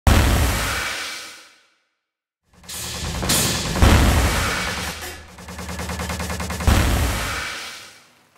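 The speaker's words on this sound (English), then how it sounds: "I then added a final flame whiff to give the explosion a bit more impact." Explosion sound effect for a video game: a heavy boom that fades out, then a rumbling, crackling blast with a layered roar, closed by a final whooshing flame burst, loud and alone.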